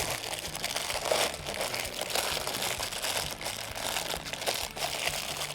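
A plastic bag crinkles and rustles continuously at close range while it is pushed into a recycling bin, with irregular crackling bursts throughout.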